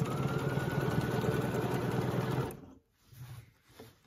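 A sewing machine stitches an orange peel quilting design in a fast, steady whir for about two and a half seconds, then stops, leaving near quiet with a faint low murmur.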